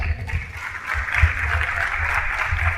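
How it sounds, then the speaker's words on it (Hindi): Applause in a Hindi-speaking business gathering for the company founders Rich DeVos and Jay Van Andel, a steady wash of clapping across the whole stretch with low rumbling thumps underneath. "उन दोनों दोस्तों के लिए जोरदार ताली बजाइए"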